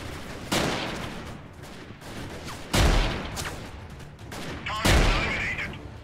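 Grenade blasts and bursts of gunfire in the guerrilla warfare video game Freeman Guerrilla Warfare, three loud explosive hits spaced a couple of seconds apart over a busy rumbling battle background.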